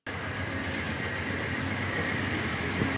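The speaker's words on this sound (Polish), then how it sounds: "Tym razem jadę pociągiem, a z Poznania do Gniezna to 30 minut drogi." Passenger train travelling between Poznań and Gniezno heard from inside, a steady loud rumble of wheels and carriage noise with faint rhythmic clicks throughout.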